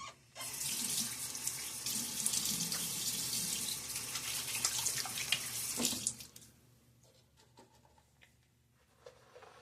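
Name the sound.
water running from a tap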